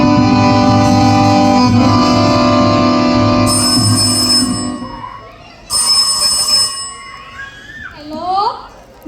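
A telephone ringing during a school stage performance, a loud bright electronic ring in two bursts with short pauses, with a voice and hall noise around it.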